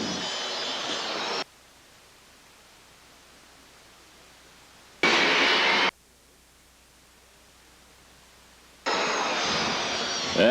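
Aircraft engines roar as a plane reverses along the runway at the 1986 Abbotsford International Airshow. There are three loud, steady bursts of broadband engine noise, separated by stretches of near silence.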